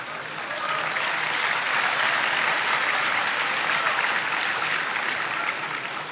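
A lecture audience at a talk on national identity and power sharing claps steadily for about six seconds: a full, even wash of applause with no speech over it.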